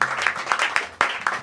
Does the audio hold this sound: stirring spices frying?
no